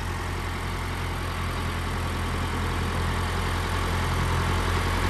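A tractor engine runs steadily while the front loader bucket is lowered during stall mucking on a homestead, a continuous low rumbling drone with mechanical vibration, fairly close and even throughout, with no talk.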